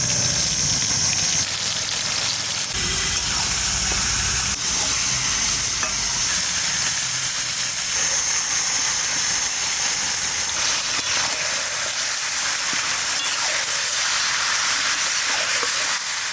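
A kilo of mutton hits hot oil in a pot in a Bengali village kitchen, giving a loud, steady sizzle and hiss of frying that runs unbroken, with faint stirring and no talk.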